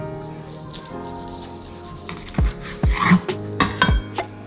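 A knife slices through a sushi roll on a board, cutting it into quarters, with several soft thuds and scraping cuts in quick succession alongside light clinks of kitchenware, close and fairly quiet.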